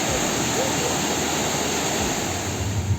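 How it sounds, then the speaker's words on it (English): Waterfall just below the Living Root Bridge near Shillong roars as a dense, steady wash of rushing water, loud and continuous throughout. "This amazing waterfall was just below the Living Root Bridge"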